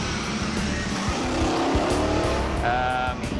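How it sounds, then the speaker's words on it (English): A loud car engine roars continuously up close, its revs wavering and catching unevenly, with a brief higher whine near the end. "I hear a bit of stuttering in the engine"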